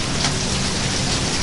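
Steady rain pours down outside a home kitchen, a dense unbroken hiss of drops drumming on surfaces that fills the whole moment with no voices.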